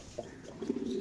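Pigeons at a pigeon farm give soft, low cooing calls, a brief faint one followed by a few more in quick succession.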